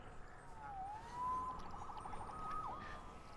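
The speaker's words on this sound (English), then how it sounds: "Saved by the siren." A police siren wails in the Marvel's Spider-Man video game, a rising and falling tone heard at moderate distance over low city ambience, with no talk.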